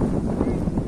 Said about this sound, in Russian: Смотрите, какой сегодня ветер.